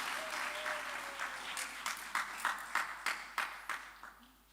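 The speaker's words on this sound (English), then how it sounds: "A round of applause as the President comes to give his speech." Applause at a law society symposium as the president comes to speak, a moderate wash of clapping with a run of distinct sharp claps near the end before it dies away.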